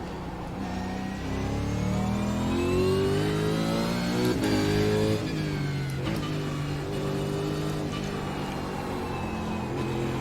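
A V8 Supercar engine in the iRacing sim racing game revs and drones steadily, pitch rising and falling through gear changes with brief shift blips, a continuous mid-loud whine with no talking.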